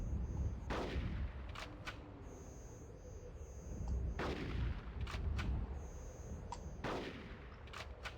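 Gunfire in the video game Conker's Bad Fur Day comes as a few sharp shots and booms, including a couple of heavy blasts with ringing tails, spaced apart over a steady game background hum.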